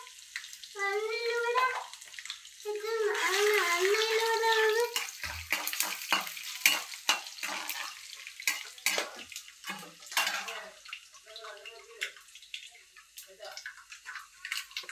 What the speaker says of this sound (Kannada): ಈಗ ನೆಕ್ಸ್ಟು ಸ್ವಲ್ಪ ಜೀರಿಗೆ ಹಾಕ್ತೀನಿ. ಜೀರಿಗೆ, ಸ್ವಲ್ಪ ಸಾಸಿವೆ ಹಾಕ್ತೀನಿ.